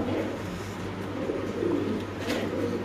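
Grey and blue barless pigeons kept for sale at a market, cooing in low, repeated throaty calls close by over a steady background murmur.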